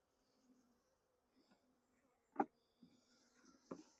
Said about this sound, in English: I may have rolled some bees or pinched some bees because they're getting a little aggressive now